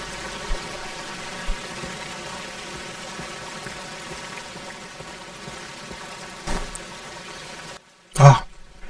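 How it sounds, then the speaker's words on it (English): A waterfall in an indie video game gives off a steady, loud rushing roar for about eight seconds, then cuts out before a short final burst of sound. "It can actually get pretty loud closer to the waterfall, but waterfalls are really loud"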